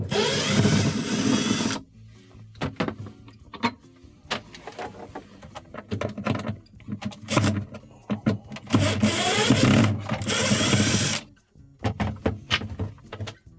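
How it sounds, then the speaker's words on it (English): A power drill removes the screws from a refrigerator panel during an evaporator fan motor repair, sounding as close whirring bursts of a few seconds each, separated by handling clicks and rattles. "We have to remove these two screws to remove this bar, followed by these two screws on the bottom to remove the panel"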